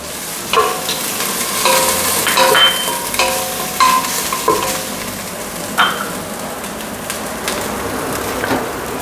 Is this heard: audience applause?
no